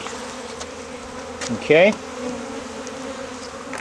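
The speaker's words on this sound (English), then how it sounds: "We're going to gently is key, lift the bees." Bees buzz in a steady drone as they are gently lifted out of a barrel. A brief louder buzz rises in the middle, and a short spoken word is heard.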